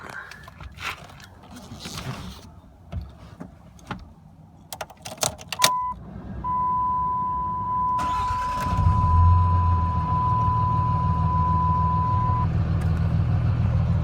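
Keys jingle and a door chime beeps before the engine of a 2007 Dodge Ram pickup cranks and catches, then settles into a steady, loud idle.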